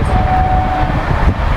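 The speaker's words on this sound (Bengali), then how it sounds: "নতুন শহীদ এক্সপ্রেসের ট্রেনের স্পিড দেখো 128, 129-এ টানছে কিন্তু নতুন শহীদ এক্সপ্রেস" New LHB coaches of the Howrah–Rampurhat Sahid Express running at speed, a loud steady rumble and roar of wheels on track with a faint high whine, filling the cabin without talk.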